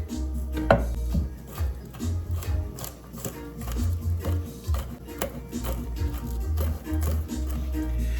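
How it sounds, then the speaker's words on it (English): A knife chops garlic on a cutting board, sharp knocks in a steady, uneven rhythm, close and fairly loud, with no talking. "So I'm going ahead and cut up my garlic."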